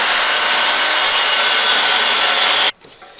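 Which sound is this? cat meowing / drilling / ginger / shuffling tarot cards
drilling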